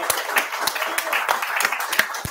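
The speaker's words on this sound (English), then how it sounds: "round of applause to Liam Sharp." Scattered hand claps of applause for an award winner at a comics awards ceremony, with a handful of distinct, fairly close claps at an uneven rhythm.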